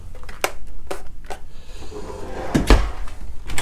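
Small drawers under the sink in a 2014 Excel by Peterson Limited Edition 34IKE fifth wheel trailer being pulled open and pushed shut, several quick wooden clunks and slides, close and fairly quiet.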